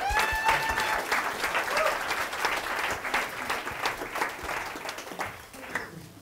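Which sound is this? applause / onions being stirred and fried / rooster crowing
applause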